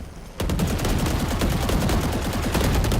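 Rapid automatic gunfire rattles in the Valorant video game, a loud, sustained burst of closely spaced shots that starts abruptly and continues without pause to the end.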